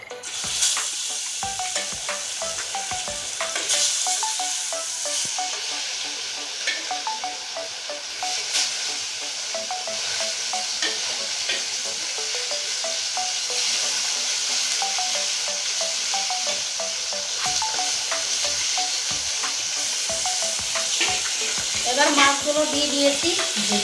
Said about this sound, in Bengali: এখানে আছে নুন হলুদ মাখানো মাছ মাছের পিসগুলো ভেজে নেব